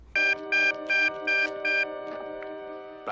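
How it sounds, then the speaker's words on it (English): A 1972 green rotary telephone rings in five loud, evenly spaced metallic bursts, then falls silent with only faint background noise. "Oh, that is a 1972 rotary phone."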